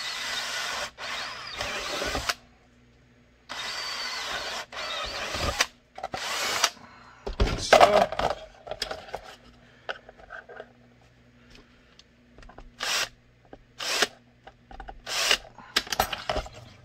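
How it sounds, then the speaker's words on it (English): Several bursts of a power drill spinning up and boring holes through a Glock 17 holster, each a couple of seconds long, separated by pauses with light handling clatter. "Go ahead and drill these."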